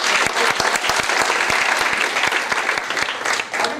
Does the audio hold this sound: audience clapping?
yes